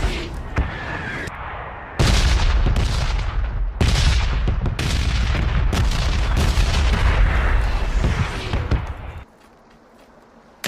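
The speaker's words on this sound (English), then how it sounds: "As you can hear, the sound effects for those bombs have changed a lot" Bombs explode in the PUBG shooter game as a dense run of loud, booming blasts and rumbling impacts that overlap for several seconds before cutting to near quiet.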